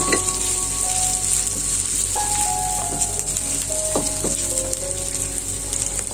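Oyster mushrooms and chicken giblets sizzle loudly in a hot pan with red chili, with a steady frying hiss throughout and occasional clinks and scrapes of a spatula stirring.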